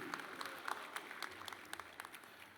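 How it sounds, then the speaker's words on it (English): An indoor audience at a university Founders' Day celebration claps in a steady patter of applause, moderately distant and continuous, with no voices over it. "Let's give him a round of applause."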